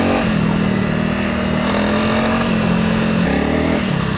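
A light Honda CRF300 Rally motorcycle revs hard and steadily while its rear wheel spins, a loud, close engine drone that holds for several seconds with slight pitch shifts.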